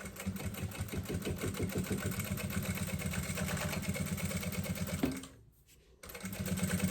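A sewing machine stitches a seam with polyamide thread on top and bottom and a size 16 needle, whirring in a fast, steady rhythm close by, then stopping briefly before starting up again.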